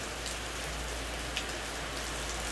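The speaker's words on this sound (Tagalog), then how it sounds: "It's raining again!" Steady rain falls on a surface in a continuous, even hiss with scattered droplet taps, constant and fairly close, with no voices.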